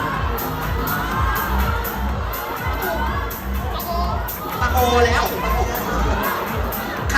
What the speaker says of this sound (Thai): ตะโกนขึ้นมาทุกคน